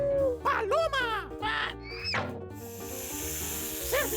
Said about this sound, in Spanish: ¡Serpiente!